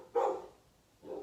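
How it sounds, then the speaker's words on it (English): Dogs give two barks, a sharp one followed a moment later by a softer second, fairly faint and somewhat distant, with no talking. "Should I wait for them to stop barking?"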